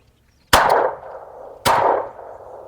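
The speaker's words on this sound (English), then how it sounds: "We're gonna shoot 9mm of the PSA Micro Dagger." Two sharp 9mm pistol shots from a PSA Micro Dagger at an outdoor range, striking a rubberized self-healing target; loud, close cracks about a second apart, each with a short ringing decay and no talk.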